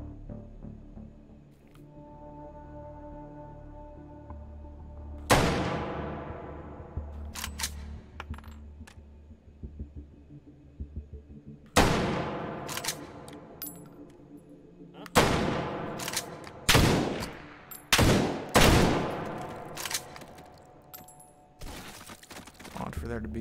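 A GP90 rifle in Take & Hold firing chunky 7.5x54.5 rounds: several loud, sharp single shots with long ringing decays, spaced apart then closer together toward the end, over a quiet background hum, with brief talk between shots.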